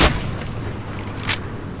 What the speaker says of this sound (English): Oh, here it is, the rocket launcher.